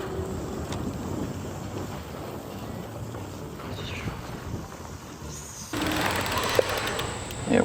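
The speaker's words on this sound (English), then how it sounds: "So I got it on sport mode doing 21 miles per hour." A 750-watt moped-style e-bike ridden in sport mode at about 21 mph, with steady wind rush and road noise throughout and a louder burst of wind near the end.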